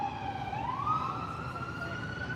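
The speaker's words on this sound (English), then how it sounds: "we're gonna wait till the siren go by" An emergency vehicle siren wails past, its tone sweeping upward and then holding, moderately loud over a steady background hum of traffic.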